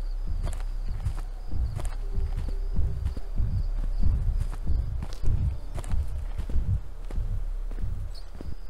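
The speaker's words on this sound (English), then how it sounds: "Walking on grass makes me so uneasy in this game." Footsteps walking on grass in the Siren Head horror game, a steady series of soft, dull thuds at a walking rhythm, close and fairly loud, with no talking over them.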